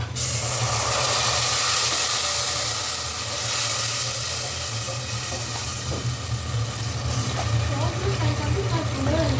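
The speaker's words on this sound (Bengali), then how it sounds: "পেঁয়াজটা ভাজা হয়েছে, পানি দিয়ে দিই।" Water is poured onto fried onions with garam masala and dried chillies in a pot for a mezbani-style meat curry. A loud, steady hiss of steam fills the whole stretch, with voices faintly underneath.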